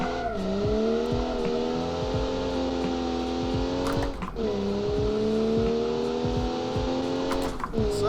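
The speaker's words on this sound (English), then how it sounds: "next up we have the Mantle, our sports budget car with the straight 6 3 litre" A straight-six 3-litre sports budget car from the 1960s races in a video game at Road Atlanta. Its engine is close and loud, climbing steadily in pitch, and drops sharply twice on gear changes before it builds again.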